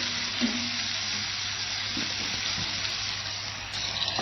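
Chicken breast fries steadily in a pan with turmeric and chili, a continuous close sizzle with a few soft stirring scrapes throughout.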